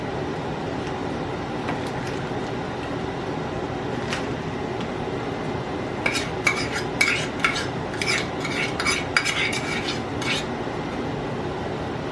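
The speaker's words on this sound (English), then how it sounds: "let's give this a little stir." A utensil stirs a meatloaf mixture containing brown sugar in a bowl, giving soft scraping and a cluster of light clinks against the dish over a steady low background rumble.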